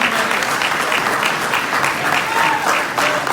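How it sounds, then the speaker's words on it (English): Loud, dense applause fills a Nation of Islam gathering as a crowd claps for a speaker, a steady roar of hands lasting a few seconds without pause. "Give them a round of applause as they come"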